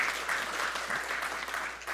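A church congregation applauds in a soft, steady patter of many hands, heard at a distance and fairly quiet for a couple of seconds.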